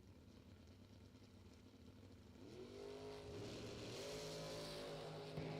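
A Race Tech dragster sits at a drag strip with its engine murmuring quietly. Partway through, the engine climbs into a rising rev that swells louder and holds toward the end, heard from some distance.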